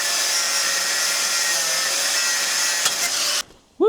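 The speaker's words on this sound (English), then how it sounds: "let's get the angle grinder and we'll cut those off" An angle grinder cuts off rusted bolts on a Porsche 996 with a loud, close, steady high-pitched grinding whine that holds for about three and a half seconds, then cuts out abruptly.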